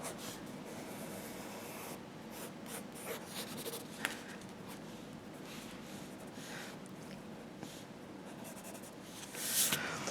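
Pencil sketching the hair part of a cartoon character, a faint, close scratching and rubbing of graphite on paper in short repeated strokes, with no talking over it.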